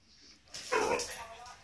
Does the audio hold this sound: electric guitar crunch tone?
no